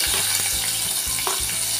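A large onion, sliced thin lengthwise, fries in hot oil with a dense, continuous sizzle, and soft rhythmic thumps of stirring sit under it.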